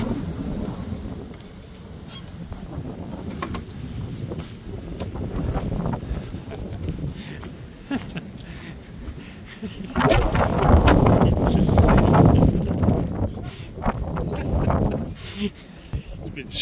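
Strong storm wind buffets the microphone in rough, swelling gusts, loudest around the middle, while people talk outdoors beside a fence.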